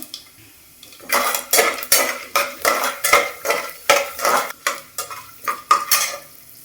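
Peanuts, chana dal and urad dal fry in a pan for palak rice, with a steady series of about a dozen sharp metal spoon scrapes and clinks against the pan over a faint sizzle, close and loud, no talk.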